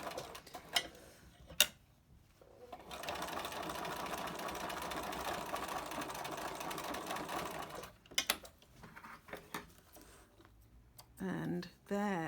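A sewing machine top-stitches a fabric face mask with a filter pocket in one steady, fairly quiet whirring run lasting several seconds, framed by brief clicks and handling noise before and after.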